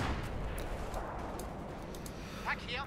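Heat-seeking mortars fire in a Company of Heroes 2 World War II battle, a dull wash of distant thuds and crackles under a continuous rumble of battle noise, with voices nearby.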